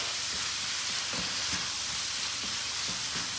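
Food sizzling steadily in a hot pan while making moussaka, a constant crackling hiss with faint stirring clicks, close and unbroken.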